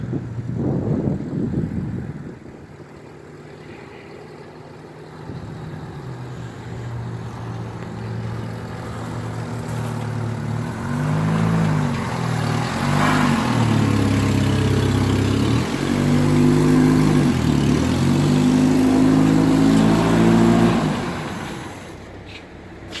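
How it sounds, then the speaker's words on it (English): A homemade yard kart's engine runs steadily as the kart is driven around a yard in the dark, its mid-pitched drone rising and wavering with throttle changes before easing off at the end, close and loud with no talk. "Got it running. He's driving it around, checking out the transmission a little bit."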